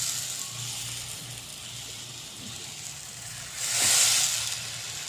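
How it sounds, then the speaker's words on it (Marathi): Steamed eggplant cooks in a pan with a steady, soft sizzle and hiss, rising to a brighter, louder burst of sizzling near the end; no talking over it. "आणि आता यामध्ये थोडे हे वांगे शिजवून घ्यायचे आपल्याला."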